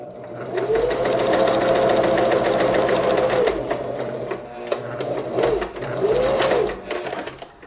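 A sewing machine stitching a baby rolled hem, a close, loud continuous whir with a rapid mechanical knock, slowing and easing off briefly a few times before resuming.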